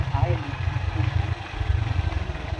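A motorcycle engine runs close by near a river crossing in rural Palawan, Philippines, a loud, throbbing mid-pitched drone that holds steady throughout.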